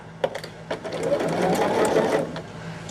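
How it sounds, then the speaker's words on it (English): A sewing machine stitches fabric pieces together for a pumpkin-themed quilt sew-along, with a close, rapid mechanical whir that starts in short bursts, then runs steadily before slowing. "I think what I'm going to do is just sew until they're all sewn up"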